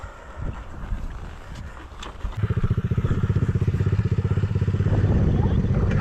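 A KAYO TSD 110 enduro motorcycle engine starts revving midway, a steady pulsing throttle drone that builds and holds close and loud, after a few seconds of wind and faint outdoor noise.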